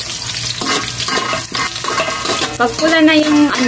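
Garlic and onion sizzle in a frying pan while dinuguan is cooked, a steady wet crackle running the whole time beneath a person speaking.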